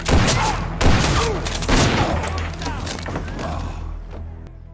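Gunshots ring out in a film gun duel, several heavy blasts spaced about a second apart over a dense, loud backdrop of echo and rumble, with some voices mixed in.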